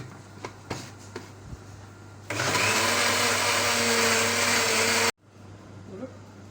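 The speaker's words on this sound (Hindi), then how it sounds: "अब इसको ब्लाइंड करते हैं।" A kitchen blender whirs loudly for a few seconds while blending raw mango sharbat with ice, starting after a few light knocks and stopping abruptly, with quiet room sound after.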